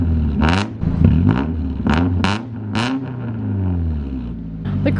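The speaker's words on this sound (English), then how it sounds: "Oh, there's that chain rattle again." A warm car engine idles and revs with a metallic rattle from a timing chain, harmonic engine tones rising and falling through several throttle blips, close and loud.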